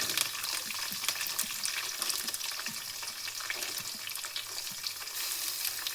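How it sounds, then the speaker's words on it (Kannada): Onions fry with cumin, curry leaves and green chillies in a pan, a steady close sizzle with occasional stirring clicks, no talking. "ಇವಾಗ ಕಲರ್ ಚೇಂಜ್ ಆಗೋವರೆಗೂ ಇದನ್ನು ಈರುಳ್ಳಿನ ಚೆನ್ನಾಗಿ ಫ್ರೈ ಮಾಡ್ಕೊಳ್ಳುವ"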